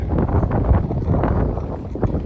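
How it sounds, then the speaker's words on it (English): Gusty cold wind buffets a phone microphone, producing a steady low rumble with bursts of louder thumping throughout. "sorry about the wind and the on the phone"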